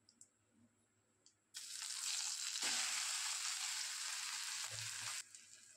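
Chopped taro drops into hot oil in a wok tempered with dried red chilies. After a quiet start, a sudden loud, steady sizzle erupts and holds for several seconds before dropping back to a low crackle.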